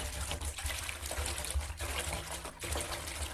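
Steady pouring of hot water into a container to dissolve oxygen bleach powder, a continuous splashing trickle with small fluctuations, close by and without talk.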